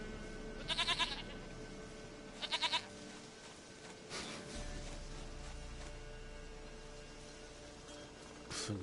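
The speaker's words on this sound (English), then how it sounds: "Goat of mine, dearest, sweetest goat." A goat in the video game The Witcher 3 bleats twice in short, nasal, quavering calls near the start, then a quieter stretch of game ambience and soft background music follows.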